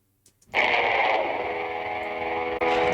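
A hyper-compressed sample run through Decapitator distortion, with a narrow radio-like tone, kicks in abruptly, holds steadily, and briefly cuts out before resuming.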